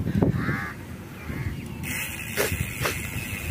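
Outdoor ambience by a pond in Al Barsha, Dubai, with harsh bird calls, a few rasping caws standing out over a steady background hiss and rumble.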